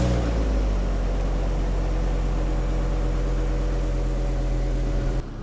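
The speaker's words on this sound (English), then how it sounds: "we're going to fire this baby up and let it run for 5 minutes" The Ford V10 engine of a Class A motorhome on an F53 chassis idles nearby with a steady, loud, deep drone that holds even throughout and drops off abruptly at the very end.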